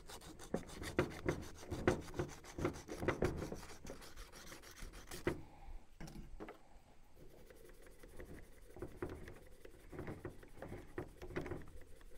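Emery cloth, a fairly coarse grade, rubbed back and forth over metal on a wood chipper under repair, giving rhythmic scraping strokes close by that pause briefly midway and then resume, with no talking.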